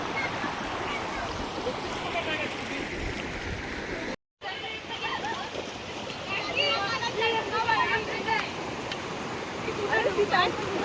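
The 40-foot Katvan waterfall gives a steady, broad rushing roar that fills the whole stretch, with people talking and calling over the constant water noise.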